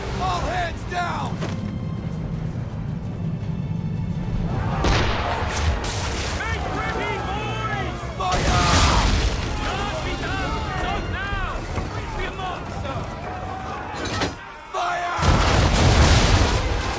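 Ship swivel guns and cannons boom in Assassin's Creed III naval combat, several loud blasts spaced apart amid wind and creaking sea noise, with voices shouting orders over the firing.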